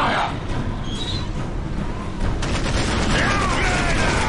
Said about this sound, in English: we are taking fire!